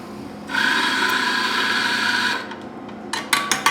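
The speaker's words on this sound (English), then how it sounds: "So the first thing we're gonna do, to pull a shot of espresso, we have to grind them first, right?" An espresso coffee grinder chews through roasted beans in one steady, whirring burst of about two seconds, then winds down, followed by a few quick knocks and taps.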